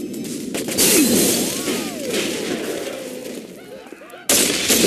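Gunfire in Saints Row IV, a burst of dense shots and impacts that carries on through the clip over busy game sound, dropping for a moment before coming back hard near the end.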